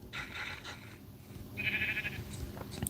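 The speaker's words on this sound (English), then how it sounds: "Hey, sheep." Sheep bleat in a Minecraft-style block-building video game, a couple of wavering bleats at moderate distance over soft background game noise, with no talk.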